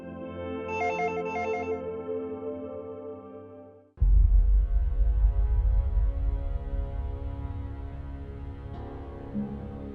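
A phone rings in a Pakistani drama scene, a repeating electronic ringtone melody for a few seconds, then it cuts abruptly to louder low rumbling background sound with no talk.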